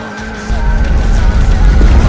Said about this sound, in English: the sheer wheel spin this Ibiza would produce